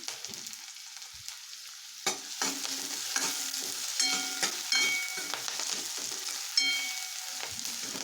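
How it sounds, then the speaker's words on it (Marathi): Chopped onion and curry leaves sautéing in a pan for a soybean curry make a soft, steady sizzle, broken by repeated spatula scrapes and stirs, close and with no voices. "कांदा थोडासा गोल्डन होईपर्यंत परतून घ्यायचा आहे"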